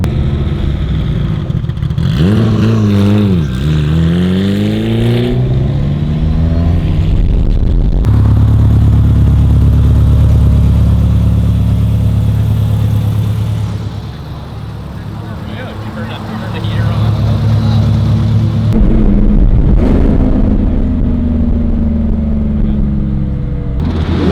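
Sports cars, including a Honda and a Lamborghini Huracan, cruise at night, with engines revving and rising through gears close by, then a steady loud drone, a brief dip and another strong run of acceleration.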